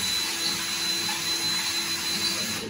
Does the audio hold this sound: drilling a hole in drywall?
yes